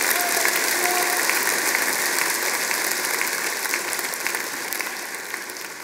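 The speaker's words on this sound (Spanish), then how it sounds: "Fuerte aplauso." A congregation at a church service breaks into loud, dense clapping that carries on steadily and slowly tapers off in volume, with no voices standing out above it.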